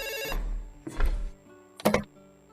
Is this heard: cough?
no